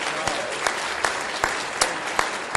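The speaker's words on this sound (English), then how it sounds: "Big round of applause for the gentleman" Audience applause at a board meeting honoring a wrestler, bronze medalist at 126 pounds; steady, dense clapping fills the room throughout with a few sharper claps standing out, loud and close.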